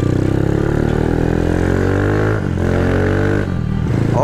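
A Bajaj Pulsar 220 converted to a supermoto motorcycle, its engine loud and close, revving and pulling through the gears with rising harmonic tones that drop briefly at shifts, no talking over it.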